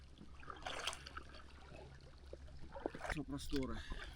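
Water splashing and lapping around a rowing boat on a sunny northern river, with oar strokes near the end, under ongoing voices of people in the boat.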